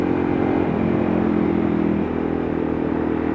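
A Suzuki DRZ 400SM supermoto drones steadily up close, its engine tone holding then shifting slightly lower partway through, with wind and road noise mixed in.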